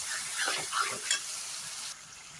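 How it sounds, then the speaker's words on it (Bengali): Garlic paste fries in oil for mutton curry with a close hiss, as a few quick spatula scrapes stir the pan before the sizzle settles. "রসুন বাটা দিয়েছি, এটাকে ভেজে নেবো।"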